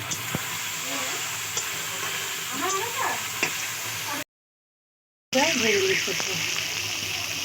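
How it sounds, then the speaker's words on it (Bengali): Potato pieces fry in a home kitchen pan during vegetarian cooking for Kali Puja, giving a steady crackling sizzle with scraping stirs and faint voices, broken by a brief silent gap before the sizzle resumes louder. "আলুটা এখন ভেজে নিচ্ছি"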